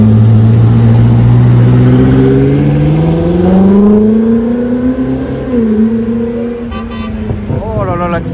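A Koenigsegg Jesko supercar accelerates on a street in Monaco, its loud, close engine note climbing steadily in pitch over several seconds before easing and rising again.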